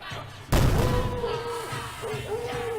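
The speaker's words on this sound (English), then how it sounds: "as you get ready to look around finding new targets, you hear an explosion" A loud explosion sound effect played during a tabletop role-playing game, a sudden booming blast with a rumbling, crackling tail that fades over a couple of seconds while tonal background music continues.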